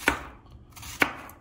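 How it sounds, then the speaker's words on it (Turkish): A knife chops onions into rings on a board, two sharp distinct cuts about a second apart, close and clear with no talking. "halka halka doğrayalım arkadaşlar."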